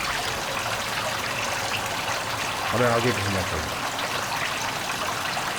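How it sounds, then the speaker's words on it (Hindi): Water streams steadily through a gutter inside a tunnel, a continuous rushing flow that fills the space while someone speaks briefly over it. "इस गटर का पानी इस तरफ जा रहा है"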